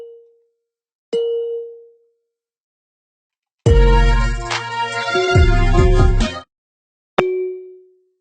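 Bright bell dings ring out singly, separated by silence, with a dense stretch of layered chiming and deep bass in the middle of a beat.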